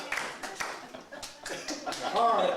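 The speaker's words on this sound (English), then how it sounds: "give him a round of applause" Audience clapping at a stand-up comedy show, a scattering of individual claps with light laughter mixed in, fairly close and moderately loud, with voices chatting over it.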